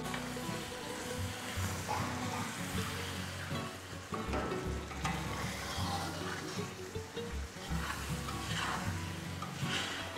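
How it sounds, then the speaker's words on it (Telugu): Masala paste frying in a kadai for chicken curry while being stirred, a continuous sizzle with repeated scraping and thudding strokes of the spoon against the pan, close and steady. "ఈ విధంగా వేసిన మసాలాని దీన్ని కనీసం మనము ఒక 10 నుంచి 20 నిమిషాల సేపైనా సరే బాగా కలపాలండి"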